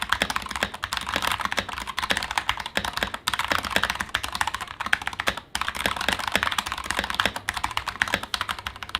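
Rapid, continuous clacking of keys on a Bluetooth computer keyboard, typed steadily at close range with only a few short pauses, with no voices.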